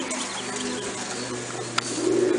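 A pigeon in a loft gives a low, soft coo that swells toward the end over a steady, close indoor ambience, with a single sharp click just before it.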